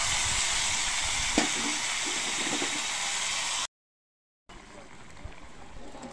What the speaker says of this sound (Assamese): ধুনীয়াকৈ ফ্ৰাই কৰি ল'ম।